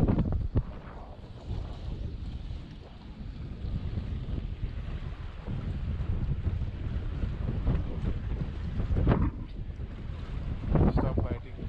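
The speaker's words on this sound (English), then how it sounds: "I think it's windy." Strong wind buffets the microphone on a fishing boat at sea, a steady loud roaring rush with gusts and some water noise throughout.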